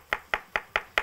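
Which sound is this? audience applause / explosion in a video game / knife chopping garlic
knife chopping garlic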